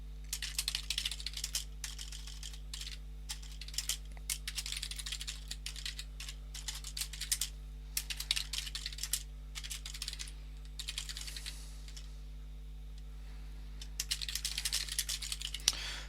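Typing on a computer keyboard into a Python file, with steady bursts of quick key clicks broken by short pauses and a longer lull midway, close up over a low constant hum.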